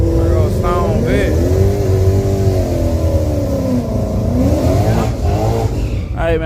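A turbocharged car engine drones and revs continuously nearby, the pitch rising and falling as the throttle is worked, with people talking over it.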